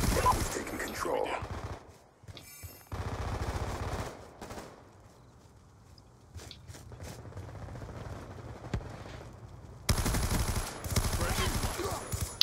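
Bursts of automatic gunfire and single shots from a Call of Duty: Black Ops 2 team deathmatch, loud and rapid, split by quieter stretches of scattered shots and game sound, with players talking throughout.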